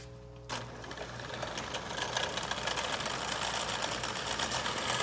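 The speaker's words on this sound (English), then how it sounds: "Drilling some holes and shit." After a brief quiet moment, a power drill whirs up and runs steadily, a close, continuous grinding buzz.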